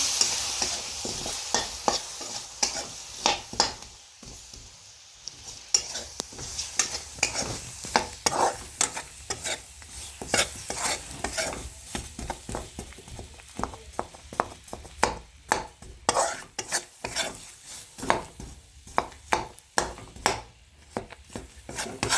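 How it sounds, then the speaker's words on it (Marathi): A spoon stirring sesame ladoo syrup with ghee in a pan, rapid repeated scraping and clacking strokes against the metal over a light sizzle, continuing in an uneven rhythm with brief pauses. "हे छान असं परतून घ्यायचं पूर्ण पाक होईपर्यंत"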